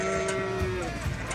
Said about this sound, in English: This is Myra the cow.